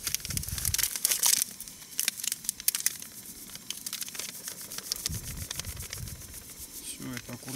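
Close, irregular crinkling and rustling of a plastic packet while preparing corn as carp fishing bait, with sharper crackles early on and quieter handling after.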